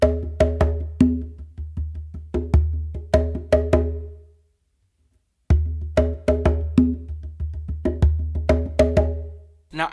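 A bomba/funk hand-drum pattern played on a bingba, crisp open and muted strokes in a steady groove over a low resonant tone, two phrases separated by a short pause, close and alone.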